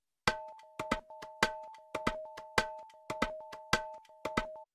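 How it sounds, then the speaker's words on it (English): Percussion loop processed with the PSP Hertz Rider 2 plugin using its sync option: sharp, evenly spaced hits in a steady repeating rhythm, with a sustained tonal ring running beneath them, clean and alone. "So I've set up both the PSP Hertz Rider and the Hertz Rider 2 on the same piece of percussion."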